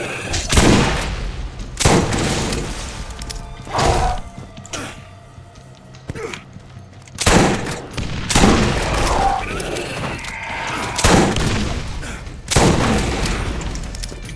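A Jacobs Carnage gun fires rockets in Borderlands 1. Roughly half a dozen loud, booming blasts land at irregular intervals, each with a rumbling decay, and quieter game noise fills the gaps.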